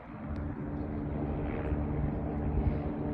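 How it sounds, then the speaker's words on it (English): A helicopter passes in the sky over the Hollywood Reservoir, a low steady rotor drone, distant but persistent throughout without talking. "Oh, there's a heli."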